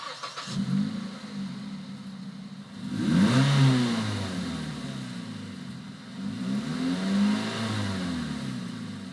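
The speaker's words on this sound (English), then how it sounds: "So this is the exhaust with the doors open." A 2010 Mazda3's engine idles with a deep exhaust rumble, then revs up twice in strong rising surges, close by and loud, heard with the car's doors open.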